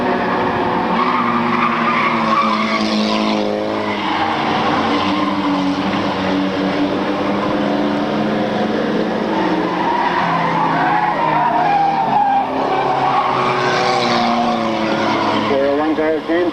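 Stock race cars roaring around a track, a dense, loud, continuous engine drone that swells and fades as the cars pass, with no break for the whole stretch.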